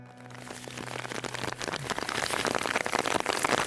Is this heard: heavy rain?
yes